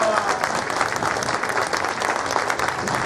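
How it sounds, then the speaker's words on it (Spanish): A crowd gives sustained, even applause for an invited guest, a representative of the Oaxaca governor, at an inauguration ceremony, with dense overlapping claps at a steady level and no break throughout. "El aplauso para ella."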